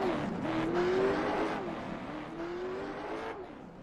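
A race car in the iRacing sim runs a qualifying lap at Irwindale Inner, its engine droning steadily with shifting pitch and light tire noise throughout.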